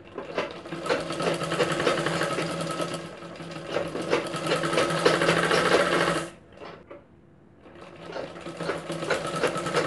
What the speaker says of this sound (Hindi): नीचे के साइड से हम इसमें किनारे से सिलाई लगाना चालू करेंगे